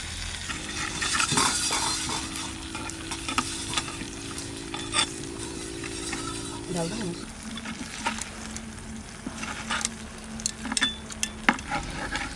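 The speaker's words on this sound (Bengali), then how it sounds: "খুব সুন্দর ভাজা হয়েছে, আর গন্ধটা কি সুন্দর বেরোছে।" Frying food in a pan sizzles steadily while a spatula stirs and scrapes in irregular clinks, close and moderately loud. A steady low hum runs beneath it, and there are brief murmurs of talk.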